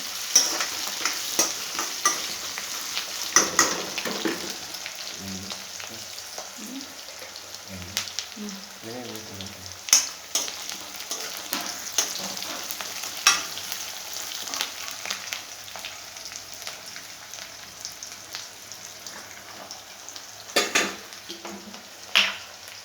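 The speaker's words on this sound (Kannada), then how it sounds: "ಈರುಳ್ಳಿ ಫ್ರೈ ಆಗ್ತಾಯಿದೆ ಈಗ" Onion and curry leaves fry in plenty of hot oil for a tempering, giving a continuous crackling sizzle broken by repeated scrapes and clinks of a spatula stirring the pan, with a voice talking quietly at times.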